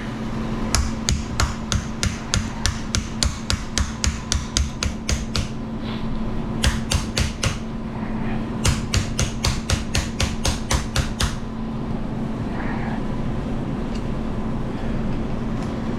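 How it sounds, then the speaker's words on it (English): Sharp metal blows from a channel lock hammer straightening a car's top left door hinge, in quick, evenly spaced bursts, pausing briefly between runs, over a steady mechanical hum. "My channel lock hammer."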